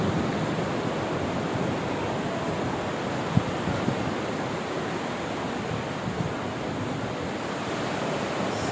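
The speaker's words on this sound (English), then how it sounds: "Waters. Waves coming in. Under the pier." Ocean waves surge and crash beneath a pier, forming a continuous, loud, dense roar of surf that stays steady throughout, with no voices.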